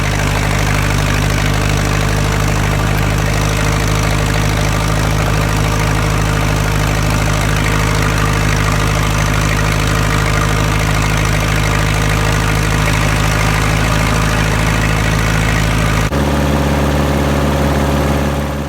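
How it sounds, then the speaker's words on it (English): A Massey Ferguson 50 tractor engine idling steadily right after being started on a cold day, a loud, continuous low mechanical rumble with a change in tone near the end. "The tractor's up and running and it's charging."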